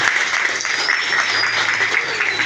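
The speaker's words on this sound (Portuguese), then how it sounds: "Aplaude essa palavra" Church congregation applauding during a sermon. Loud, continuous clapping fills the whole short stretch, with a faint sustained tone running underneath.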